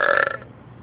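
A child lets out a single big burp, loud and close, that rumbles for a moment before fading into quiet room tone.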